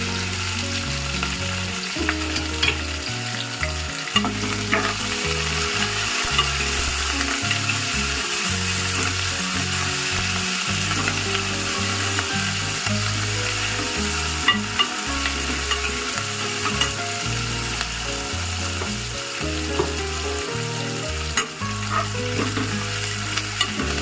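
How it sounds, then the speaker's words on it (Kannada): Curry leaves, onion and garlic fry in hot oil in a pan, a steady loud sizzle running throughout with repeated scraping and clattering stirs, no talking. "ಕರಿಬೇವು ಸೊಪ್ಪು ಹಾಕ್ತಿದ್ದೀನಿ. ಈಗ ಬೆಳ್ಳುಳ್ಳಿ ಹಾಕ್ತೀವಿ."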